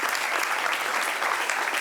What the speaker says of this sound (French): On applaudit pendant qu'elle arrive.